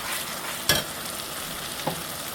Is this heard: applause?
no